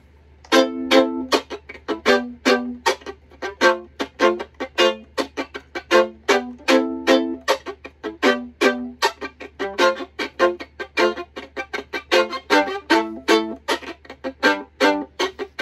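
Bowed string instrument playing a rhythmic chop-stroke strumming pattern, steady repeated percussive bow strokes with accents, close and alone for the whole passage.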